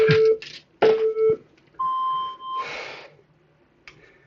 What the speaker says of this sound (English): That's the 15-second JFit timer.